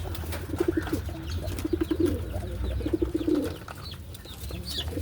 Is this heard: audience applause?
no